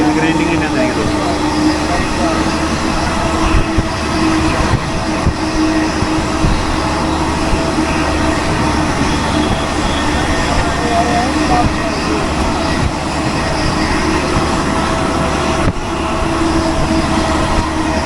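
Train wheels grind steadily on the rails of an express running from Mumbai to Manmad, a continuous loud roar with metallic harshness heard from inside the coach, without letup.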